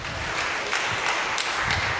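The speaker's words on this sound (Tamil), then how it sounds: "கைத்தட்டுங்க பார்ப்போம்" An audience claps together at a Catholic church prayer meeting, a steady wash of many hands filling a couple of seconds at an even, moderate level without speech.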